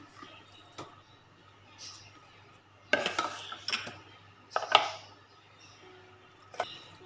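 A hand chopper minces boneless chicken into keema in a home kitchen, giving clattering, rattling bursts of plastic and blade against meat, grouped in short clusters with quiet gaps between them.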